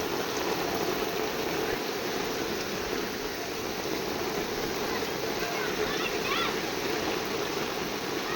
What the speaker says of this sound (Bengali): পানিটা কীভাবে নদীর ধার থেকে আসছে দেখুন, এটা নদীর বাঁধের পুরো পানি